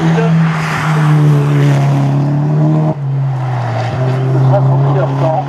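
A race car at a nationwide hill climb event roars steadily at high revs, holding a loud sustained engine drone with a brief shift dip midway, under a commentator's voice.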